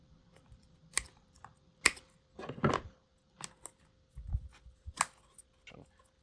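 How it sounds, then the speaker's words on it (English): Tin snips cutting through a foam sander cushion wrapped around a sander body, giving a few sharp close snips and crunchy clicks spaced irregularly, with brief handling noises in between. "Simply wrap the cushion around the body of the sander and cut it,"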